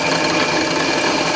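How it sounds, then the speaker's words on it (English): A hand-held drill bores freehand into an aluminium part with a 45-degree angled face, making a steady, close whirring grind that holds even and unbroken for the whole short stretch. "These parts are a bit more awkward to drill because I can't put them on like this"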